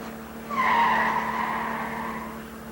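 Car tires skid with a loud, sustained squeal lasting about two seconds, rising sharply then slowly fading, in a radio drama.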